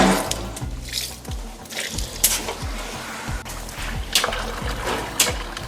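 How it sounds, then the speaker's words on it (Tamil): Water poured by hand into a large pot of beef biryani, a soft continuous trickle and splash running steadily close by with occasional louder splashes. "அதனால தான் இப்படி கையை வச்சு ஊற்றுறது தண்ணி."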